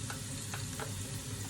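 Onions sizzle in a frying pan for an Indian bhaji curry, a close, steady crackling hiss with faint stirring and no voices.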